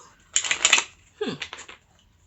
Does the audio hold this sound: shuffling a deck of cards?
yes